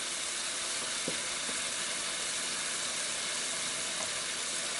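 Scallion whites and ginger frying in a pan, a steady soft sizzle and hiss with a couple of faint stirring clicks, no talking.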